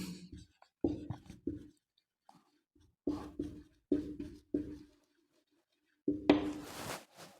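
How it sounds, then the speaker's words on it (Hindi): A sentence written on a classroom board during an English grammar lesson comes through as bursts of firm, rhythmic strokes and taps separated by short pauses, close and fairly loud, with no speech. "तीसरा मैं लिखता हूं निशा वाज इन दिल्ली।"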